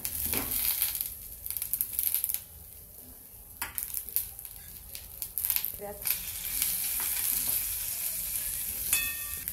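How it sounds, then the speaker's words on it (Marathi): Onions sizzle and crackle in a hot wok on a gas stove, with scraping stirs and occasional sharper clatters, close and fairly loud. "कांदा परतून घेऊ थोडासा"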